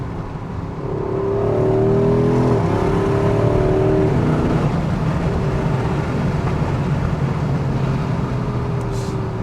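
A Porsche Cayenne Turbo Coupe pulls hard under acceleration. The loud engine note climbs steadily for several seconds, then settles into a sustained, rushing road roar.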